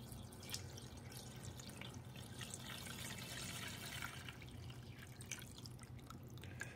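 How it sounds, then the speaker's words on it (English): Water pours steadily into a Bunn coffee maker reservoir, a continuous splashing trickle with no talking. "I'm going to pour my fresh water in."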